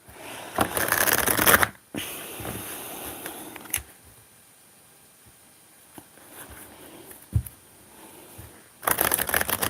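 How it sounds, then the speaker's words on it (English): A deck of cards being shuffled during a live card draw: two bursts of riffling and rustling at the start and end, with faint handling clicks and quiet pauses between. "I'm going to reshuffle them because they're two cards that were in the last one."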